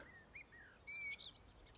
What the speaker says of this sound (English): Listen, what can you hear? Just birds.